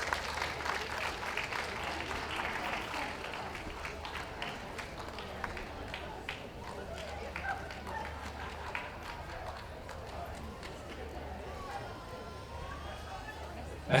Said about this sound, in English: This is your chance to applaud the Best of Breed winning dog